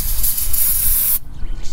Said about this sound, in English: Spray down brake parts cleaner.